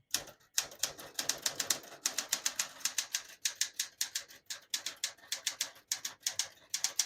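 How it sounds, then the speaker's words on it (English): Keys clack on a 1973 Smith-Corona Galaxie 12 vintage portable typewriter in quick irregular bursts with brief pauses, each strike crisp and close, no voices. "It's fun to type on, super comfortable."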